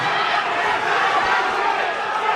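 Large crowd at a Muay Thai fight event, a dense, steady roar of cheering and chanting voices filling the space, loud and continuous throughout with no clear breaks.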